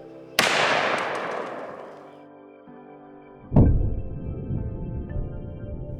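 A .50 BMG rifle shot strikes a plastic airsoft AR-15 style rifle: a sharp, loud crack that rings and decays, followed about three seconds later by a second heavy thump with a rumbling tail.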